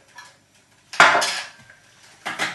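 A spoon clinks sharply against a cup of hot chocolate in a kitchen, one faint tap followed by a loud ringing strike and then a second clatter near the end, with quiet between.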